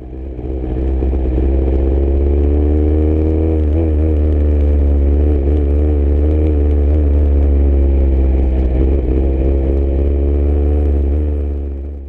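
A Formula 3 car on a warm-up lap at Paul Ricard, heard onboard: a loud, close engine holds a steady drone with small rises and dips in pitch through the corners.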